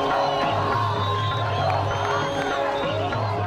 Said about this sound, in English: the crowds are shouting and screaming